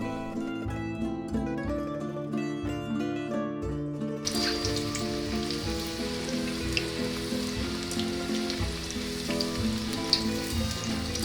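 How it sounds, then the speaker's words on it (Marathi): Marinated paneer coated in gram-flour batter deep-fries in hot oil, a steady crackling sizzle that rises after a few seconds of music and continues evenly to the end. "मॅरिनेट केलेलं पनीर बेसन पिठाच्या या बॅटर मध्ये बुडवा. छान घोळसा आणि कडकडीत तापलेल्या तेलात डीप फ्राय करा."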